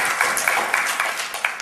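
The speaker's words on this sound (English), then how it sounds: "Give me a round of applause." Short burst of audience applause, a dense wash of clapping at steady loudness with a few sharper claps standing out, lasting under two seconds.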